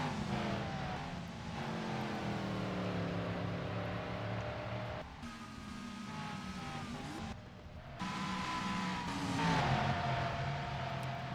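Race cars lapping a track in the NASCAR Racing 2003 simulation, engines droning and revving continuously as several cars pass, pitch rising and falling with gear changes and traffic.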